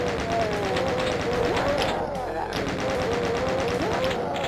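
Rapid automatic gunfire from chaingunner enemies in Doom, Map 17 The Testing Labs of Doom Zero, rattles continuously and loudly for several seconds, dense bursts with a brief dip midway, layered over game sound and faint narration.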